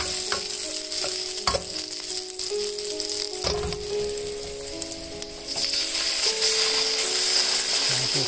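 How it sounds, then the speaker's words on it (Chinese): Sliced garlic frying in hot oil in a wok, with a loud continuous sizzle, occasional rattling knocks of the spatula, and the hiss swelling louder toward the end. "先爆香蒜片"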